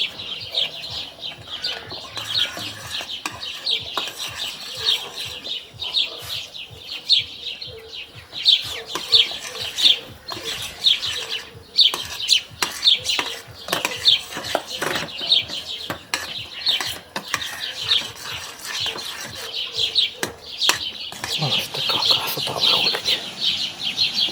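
Sparrows chirp busily and continuously outdoors, a dense chatter of small bird calls with clucking hens and scattered clatter underneath.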